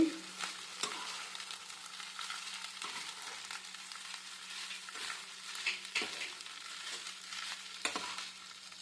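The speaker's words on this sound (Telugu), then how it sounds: "ఇలా రైస్ వేశాక బాగా కలుపుకోవాలండి" Cooked rice being stirred into fried masala in a pan, a soft steady sizzle punctuated by intermittent scraping and tapping of the spoon, close and quiet with no talking.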